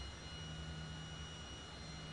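Steady, even roar of a Cessna Citation business jet's engine running up on start, with a sustained hum and a faint high whine over a low rumble, no voices.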